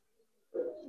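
Pigeons at a breeding farm selling high-flyer Budapest, Damascene and silver Giribaz birds give a short burst of low cooing that starts abruptly halfway through, close and moderately loud, after a faint murmur.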